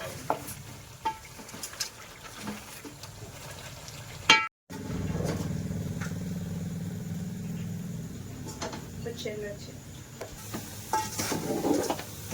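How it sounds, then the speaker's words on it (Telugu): Chicken frying and being stirred in a pan, a steady sizzle broken by scraping and clinking of a utensil, with one brief dropout in the middle. "ఎక్కువ మిక్స్ చేసుకుంటూ మనమైతే దీన్ని వేయించుకోవాల్సి ఉంటుంది"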